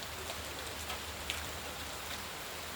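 Heavy night rain pours onto neem and flower trees, a dense, constant hiss of drops with a few sharper patters, steady and close.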